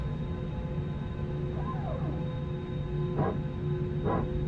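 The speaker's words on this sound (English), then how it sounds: "There's the PTU bark." A Toliss Airbus A319 power transfer unit barking in X-Plane 12 after engine start, two short low growling bursts over a steady cockpit hum.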